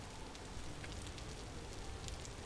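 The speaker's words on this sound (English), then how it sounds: "rain sound when you're indoors, you know, makes sense" Steady rain heard from indoors in the video game Vintage Story, a soft continuous muffled patter with faint scattered drop ticks, evenly spread and quiet, with no voices.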